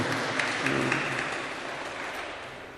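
A Korean church congregation claps together in a short, full burst of applause that slowly tapers off, with faint voices in the mix.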